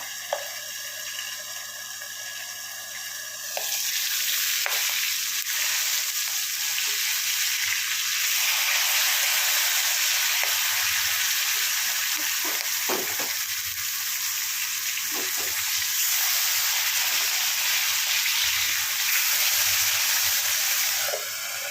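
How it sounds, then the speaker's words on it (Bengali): Fish fry in a pan of hot oil for a fish kaliya, a loud steady sizzle that swells after a quieter start and crackles with scattered pops throughout. "সবকটা মাছ ভেজে নিয়ে আমি ফেরত আসছি।"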